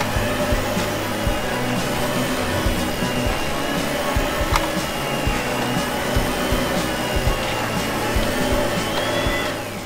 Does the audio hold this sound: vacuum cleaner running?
yes